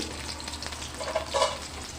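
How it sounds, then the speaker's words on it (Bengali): Chopped onions and green chilies fry in mustard oil in a kadai, giving a soft, steady sizzle with a couple of brief louder crackles, close by and with no voices. "আমি এখানে কড়াইতে দিয়েছি সরিষার তেল আর দিয়ে দিচ্ছি পেঁয়াজ কুচি আর কাঁচামরিচ"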